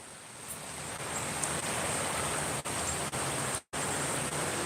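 Swollen floodwater in a river in Pigeon Forge rushes past in a constant loud roar. The dense hiss stays unbroken apart from a few brief dropouts.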